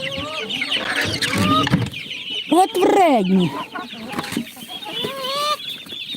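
A flock of chickens clucks and squawks loudly nearby, overlapping calls rising and falling, while a person speaks briefly among them.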